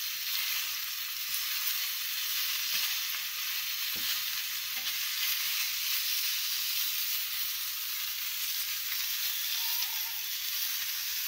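Brinjals sizzling on a hot griddle under a covering plate for a dry stuffed village curry, a steady dense hiss of frying that stays even throughout, with no voices.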